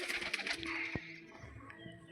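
Giribaz pigeons coo softly in low, murmuring bursts over a busy, noisy loft background, with no speech.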